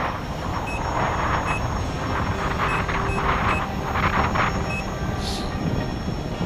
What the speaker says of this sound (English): if the battery goes down, like if it's really low, it'll start beeping